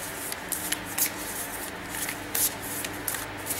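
Neapolitan tarot cards are shuffled by hand, a soft continuous riffling with brief crisp flicks at irregular intervals, close and fairly quiet.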